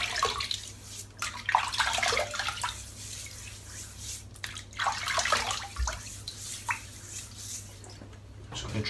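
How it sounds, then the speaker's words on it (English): Water splashes and trickles in uneven bursts as a head is wetted by hand before a shave, close and fairly steady over a low background hum. "Okay, so let's wet the head."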